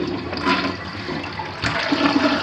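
A toilet in an 1980s North Dallas home flushes, a loud rushing gush of water close by, swelling again near the end as the bowl drains.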